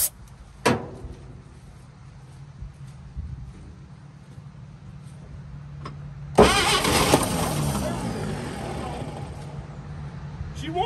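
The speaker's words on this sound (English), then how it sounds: "She wants to go." A 1953 GMC one-ton truck engine, sitting unused for over 20 years, cranks and catches loudly for several seconds, sputtering and rough as it tries to run, after a quiet stretch with a brief clunk early on.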